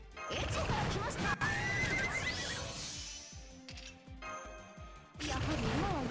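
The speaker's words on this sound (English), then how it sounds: "Horsey." A game horse from Fate/Grand Order gives a loud whinny with hoofbeat-like clip-clop, set among game music, effects and a talking voice, with a second whinny near the end.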